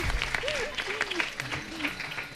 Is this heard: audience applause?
yes